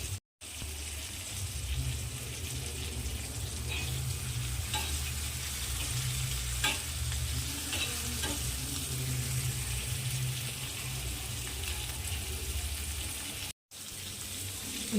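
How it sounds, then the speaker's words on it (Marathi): Green chillies and garlic fry in a pan, giving a steady, loud sizzle throughout with scattered scrapes and clinks as they are stirred, and two short breaks in the sound. "छान्याला डाग पडेपर्यंत असं आपल्याला परतून घ्यायचं आहे आणि लसण पण"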